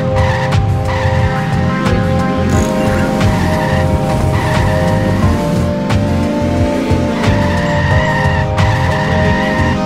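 Driving in The Simpsons Hit & Run: a car engine whines and revs continuously while tires screech in long skids, loud and close for the whole stretch, with game music faintly underneath.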